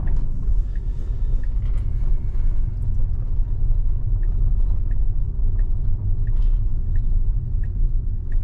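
A Tesla on FSD Beta 8.1 drives on a daytime road through an unprotected left turn, with a steady low road rumble and tire hum throughout and faint, regular ticking above it.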